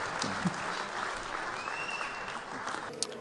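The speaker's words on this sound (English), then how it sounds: "Applause for team" Applause from the audience at the FIM motocross awards ceremony in Monte Carlo, a soft, steady wash of clapping heard at a distance.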